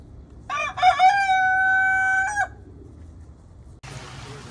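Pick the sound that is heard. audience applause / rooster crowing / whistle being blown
rooster crowing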